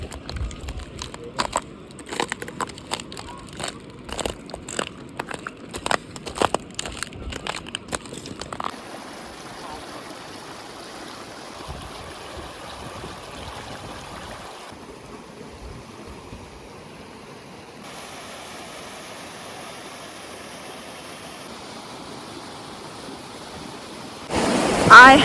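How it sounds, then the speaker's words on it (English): Meltwater rushes and trickles at a glacier in the German Alps, a steady wash of flowing water that shifts in texture, with some sharper crackles early on and a louder burst at the very end. "And now let's listen to the sound of the glacier."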